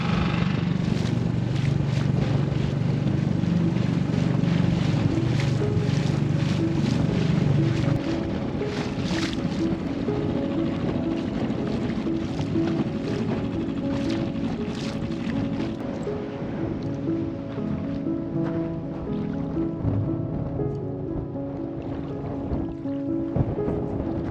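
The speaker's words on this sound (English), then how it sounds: "Boy, it's hard rowing an inflatable into the wind." Wind and water wash around an inflatable dinghy rowed against the wind at a motu on Tikehau atoll, a steady rushing with occasional splashes, louder in the first seconds.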